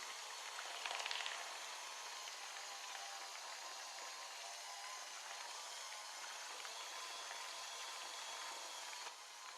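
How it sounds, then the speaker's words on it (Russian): Electric mixer whipping butter into a cream mixture, a faint steady whirring hum with a short louder scrape near the start, running continuously. "Добавляем 1 часть масла и начинаем взбивать."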